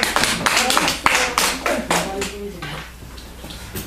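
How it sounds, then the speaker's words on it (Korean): An audience at a meditation lecture in a Seoul meditation centre gives a short round of applause that starts strong and fades away within a few seconds, with a murmur of voices beneath. "박수 한번 쳐드리세요"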